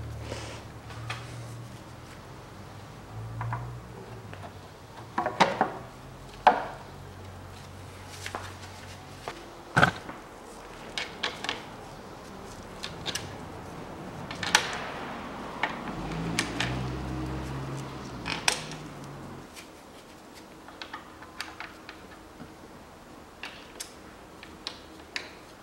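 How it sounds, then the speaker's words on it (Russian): Cylinder head cover bolts on a Peugeot 407 1.8 engine are tightened to 9 Nm with a ratchet, giving quiet, irregular clicking ticks and small metallic taps close by at low level. "Теперь все болты подтягиваем и затягиваем 9 ньютон-метров"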